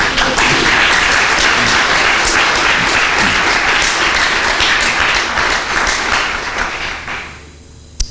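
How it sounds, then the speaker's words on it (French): Loud, dense applause fills a church gathering, sustained and even for about seven seconds before tapering off quickly, ending with a single close clap. "Applaudis encore pour lui."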